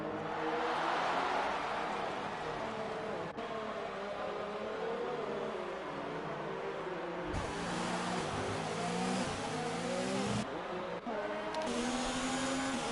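Race car engines from a Formula E-style racing video game in a USA round, a continuous loud high whine with shifting harmonic pitch as cars jostle and one overtakes another, revving up and down throughout.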